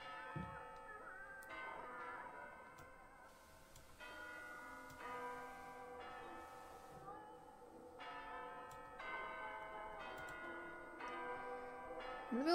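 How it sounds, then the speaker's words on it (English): Church bells in a Halloween video game chiming in repeated clusters of ringing strikes, layered and sustained, moderately loud against soft background game ambience. "The bells are chiming. They're going crazy."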